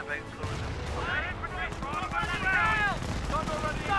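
Bren light machine gun fire in the Company of Heroes WWII strategy game, sustained bursts of gunfire and battle noise running steadily under a caster's talk throughout.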